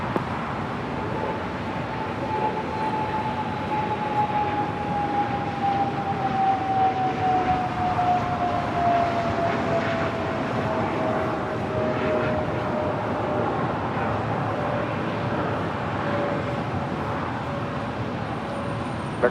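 A jet airliner takes off from runway 25 right at LAX, a steady broadband roar with a slowly falling whine that stays loud and continuous for the whole stretch, with no talk over it.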